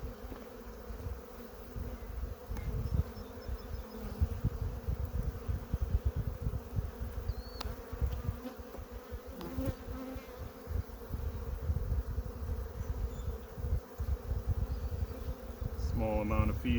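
Honey bees swarm around an open hive during an inspection, a dense, constant buzzing close by with faint handling noises scattered through it.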